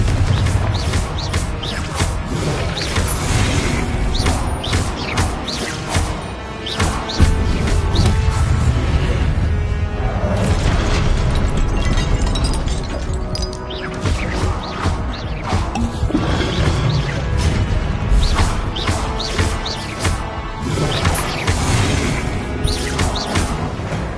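Confringo blasting spells in Hogwarts Legacy erupt in loud repeated bursts and crashes amid dense, chaotic battle noise, with whooshes and impacts piling up throughout.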